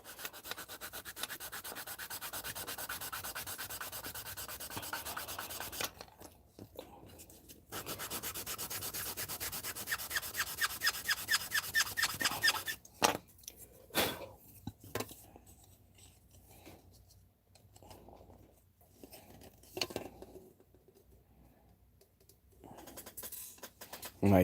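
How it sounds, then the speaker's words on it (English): Steady abrasive rubbing of sandpaper on a 1970 Chevelle body panel, continuous at first, then breaking into shorter strokes with brief pauses. "Little bit of sanding at a time."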